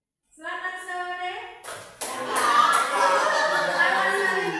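Children clapping together in a classroom clap greeting, a burst of crisp, rapid claps near and fairly loud after a short sung or chanted voice at the start.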